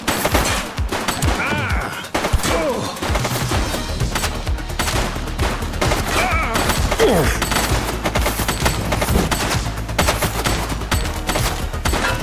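Sustained gunfire in the police video game The Precinct: dense bursts of automatic and single shots packed closely together, loud and continuous, with faint voices underneath.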